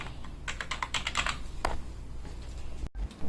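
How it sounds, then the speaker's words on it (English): Rapid clicking keystrokes on an NPET K10 gaming keyboard with plastic keys, a burst of close, crisp taps at the start followed by a few scattered presses, heard alone without voices. "But the keyboard does work pretty well."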